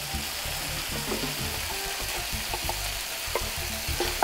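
Garlic sizzles in a hot frying pan, a dense, steady crackling hiss with small pops and occasional stirring clinks close by, and no voices.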